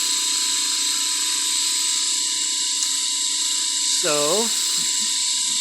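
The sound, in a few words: rotovertor motor running on AC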